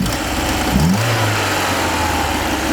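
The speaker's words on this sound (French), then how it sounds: "le moteur donc il monte dans les tours et il redescend juste derrière" A Peugeot 205 CTI engine idles, then revs up in a quick rise and drops straight back to a steady idle, close and fairly loud with no talking.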